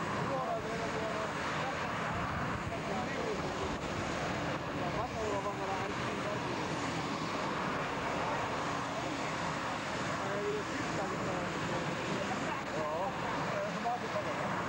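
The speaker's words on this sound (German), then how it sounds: "Erst wenn die eine Turbine richtig Drehzahl hat, kann man die andere anschmeißen." Turbine engines on a pulling tractor at a 1992 tractor pulling event in Sottrum spool up into a loud, steady, dense roar with a high whine that holds without pause, and voices are faintly mixed in.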